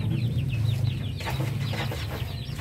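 Native chickens with their chicks, a crossbreed of Basilan and Sussex White stock, clucking nearby alongside high thin peeps from the chicks, a busy continuous flock sound with no talk.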